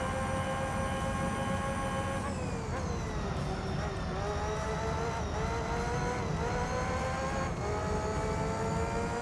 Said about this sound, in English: It's crazy just how high revving these vehicles are as well.